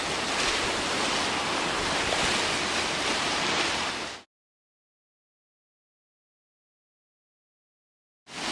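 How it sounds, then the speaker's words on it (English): Steady, loud surf of waves breaking on Sai Nuan Beach, Koh Tao, Thailand, a continuous wash for about four seconds before cutting to silence, then returning briefly. "Sai Nuan Beach on Koh Tao in Thailand."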